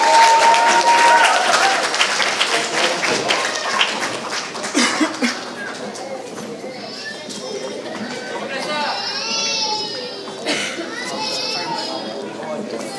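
An audience applauds Spring 2018 graduates at a student leadership graduation ceremony, the clapping loudest at first and then fading into crowd chatter, cheers and children's voices.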